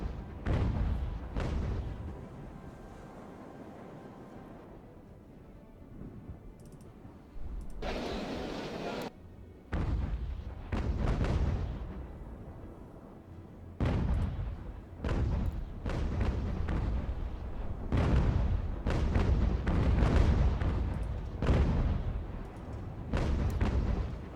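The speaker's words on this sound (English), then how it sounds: "We're going to fire at Araxis with both our ships." Naval cannon fire in Ultimate General: American Revolution as two ships fire together, heavy booming volleys in repeated bursts with short gaps between them, loud and close, no talk over them.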